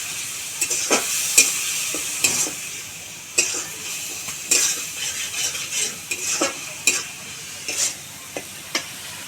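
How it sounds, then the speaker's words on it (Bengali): Spice masala with salt and a splash of water is fried and stirred in a pan, a soft steady sizzle broken by repeated sharp scrapes and clinks of the spatula at an uneven rhythm. "এবার এই সমস্ত মশলাগুলো খুব ভালো করে আমি কষিয়ে নেব"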